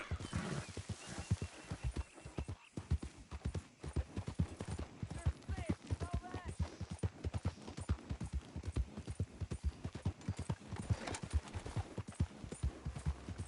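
In the video game Red Dead Redemption II, a horse gallops with steady, rapid hoofbeats thudding on the ground, quiet and continuous, with a brief whinny partway through.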